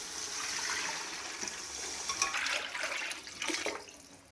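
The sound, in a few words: water being poured into a pot for pulao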